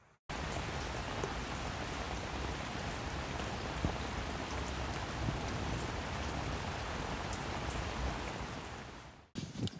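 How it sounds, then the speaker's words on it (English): Steady rain drumming on a Six Moon Designs Lunar Solo tent overnight at a forest camp, a dense, even hiss of drops that runs unbroken for the whole stretch and then stops abruptly, with no voices. "it clouded over during the night and we had rain"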